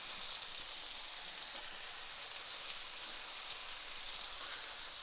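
Mustard and green hamburger meat sizzle in a pan, a steady, fairly faint hissing crackle that holds evenly throughout with no voices.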